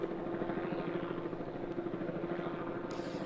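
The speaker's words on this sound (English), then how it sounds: "as you can hear the news choppers overhead" News helicopters circling overhead after a serious crash involving two school buses, a steady, loud rotor chop with a rhythmic pulsing throb and no pauses.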